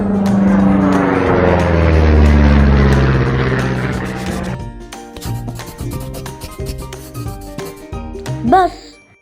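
A loud airplane roars past, its pitch sweeping as it goes by for about four seconds before fading out. Light music follows.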